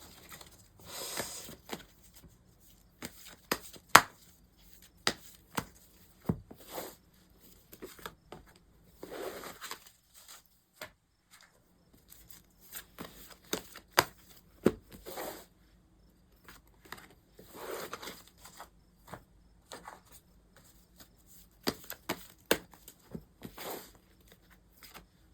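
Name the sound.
tarot cards being shuffled and drawn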